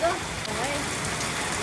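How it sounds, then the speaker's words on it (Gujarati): Heavy rain drums on tin roof sheets in a steady, dense hiss that fills the whole stretch, with a single brief spoken word near the start. "બોલો જો વરસાદ કેટલો આવે છે"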